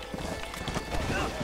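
Horse hooves clip-clopping in the video game Red Dead Redemption, a steady patter under constant background game noise while people talk over it.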